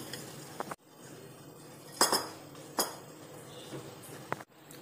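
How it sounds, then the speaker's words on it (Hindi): A sieved mixture gets stirred into melted butter in a pan for homemade chocolate, with sparse metallic clinks and scrapes of a spoon against the pan separated by quiet gaps. "जो मिश्रण हमने छान के तैयार किया था वो इसमें हम ऐड करेंगे और अच्छे से हमें इसको मिक्स करना है"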